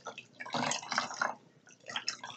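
Water drips and squelches as a wet wig is squeezed out by hand, the soft spattering coming in close bursts with a short pause between.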